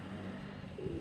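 Pigeon cooing, probably from a fancy antique breed, as soft low coos in a brief, close, quiet burst against a faint background hum.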